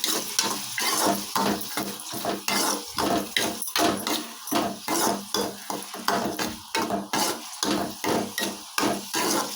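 Onions with salt and turmeric are stirred in hot oil in a pan, producing a rhythmic series of scraping strokes over a steady sizzle, close and fairly loud without any talking.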